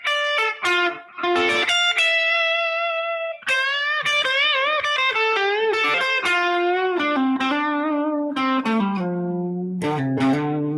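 Electric guitar playing a run of Dorian mode melodic licks with bends and sustained notes, loud and continuous, gradually descending in pitch toward the end.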